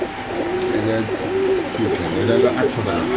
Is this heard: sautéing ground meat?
no